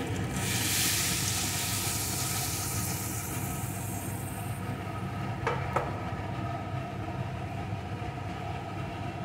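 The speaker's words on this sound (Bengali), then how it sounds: "এখানে কিন্তু আমি উষ্ণ গরম জল দিয়ে দিচ্ছি।" Warm water is poured into egg curry in a hot pan, giving a bright, rushing hiss for about four seconds that fades, followed by a couple of faint clinks over a steady low kitchen hum.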